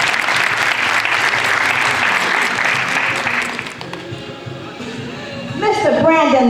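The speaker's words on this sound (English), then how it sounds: "Let's give them another round of applause." Audience at a graduation ceremony giving a loud round of applause, dense clapping for about four seconds that eases off, then an announcer's voice comes in over the last of it.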